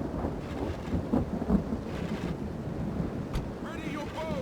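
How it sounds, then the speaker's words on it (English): Driving rain and thunder in a fantasy strategy game set in Imladris, a steady dense wash of rain with low rumbling thunder beneath it, continuous and moderately loud, no voices over it. "This is driving rain."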